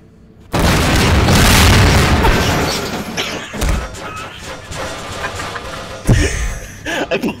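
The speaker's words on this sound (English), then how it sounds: "and then I exploded." A loud, sudden explosion in Garry's Mod at a 7-Eleven, a heavy boom followed by rumbling debris and scattered thumps, with another sharp burst near the end.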